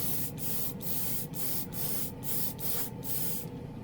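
Steady portable airbrush compressor spray, a continuous hiss with brief regular pauses roughly every half second, close and fairly quiet, no voices.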